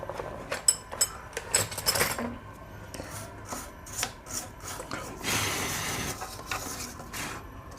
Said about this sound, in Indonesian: Coba kita bersihin pakai sikat gigi sama kuas.